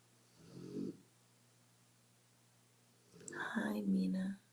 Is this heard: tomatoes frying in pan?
no